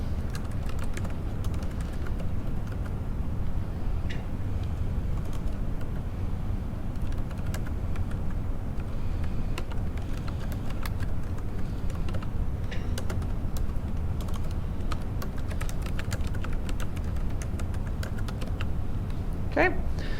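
Typing on a computer keyboard, a soft continuous patter of key clicks over a low hum, with speech in the background.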